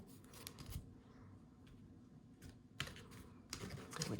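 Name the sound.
cutting a deck of tarot cards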